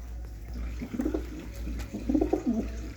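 Pigeons coo in two distinct bursts of rising and falling throaty calls, close by, over a steady low background hum.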